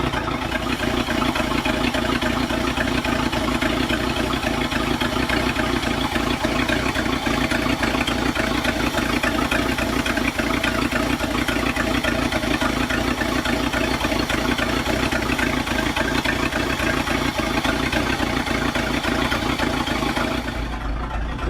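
A 1966 car engine idles steadily while warming up, a continuous low rumble with faint mechanical clatter, close and even until it fades slightly at the very end, no voices.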